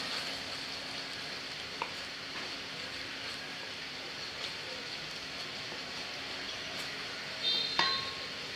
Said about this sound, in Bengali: এখন আদা রসুনটা একটু ভেজে নেব যাতে কাঁচা গন্ধ না থাকে